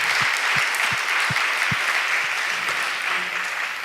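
A church congregation applauds during a young adults' church anniversary service, a dense, steady wash of clapping that holds throughout with a few sharper claps standing out.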